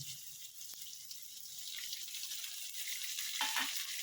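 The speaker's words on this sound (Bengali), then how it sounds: "আমার বেগুনটা একটু ভাজা হয়ে যাক" Eggplant frying in a pan makes a continuous bright sizzling hiss that swells slightly toward the end, with a brief clatter near the finish. It is heard up close and no one talks.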